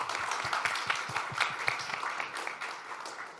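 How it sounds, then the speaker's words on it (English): A brief round of applause from a gathered audience, with a quick cluster of claps that fades gradually over a few seconds, fairly faint and without talk. "I think that deserves a round of applause."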